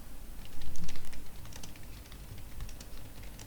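Computer keyboard typing while entering text into a Word document, a steady run of light rapid key clicks with a louder burst early on, no voices.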